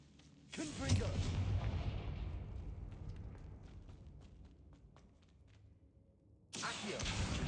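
Confringo blasting spells in Hogwarts Legacy, a loud fiery burst of explosions rumbling and crackling for several seconds, fading to scattered debris clicks, then another sharp blast erupting near the end.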